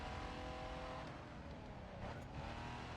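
A street car driving in the racing video game The Crew 2, with a steady engine drone and a slight rise in revs midway, heard alone at moderate loudness.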